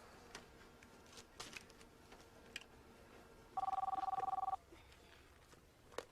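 A cell phone ringing in a hospital scene from a TV drama, a steady electronic ring lasting about a second amid quiet room tone.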